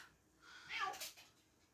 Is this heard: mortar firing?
no